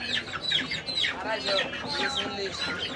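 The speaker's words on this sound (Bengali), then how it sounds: "এই পাশটা পুরোটাই মুরগি পুরোটাই মুরগির বাজার" Crowded poultry market on the Turag riverbank in Tongi, with Sonali and broiler chickens clucking and squawking nonstop close by, overlapping calls under a faint murmur of people.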